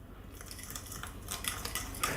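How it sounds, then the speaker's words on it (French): A utensil mixing an Italian-style potato galette mixture in a bowl, with light clinking and scraping strokes in an irregular rhythm, close and fairly quiet, no voices. "Alors, je mélange à nouveau."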